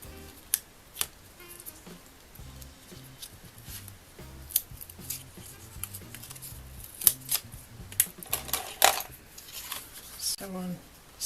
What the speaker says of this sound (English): on this one I've got to trim a tiny little bit here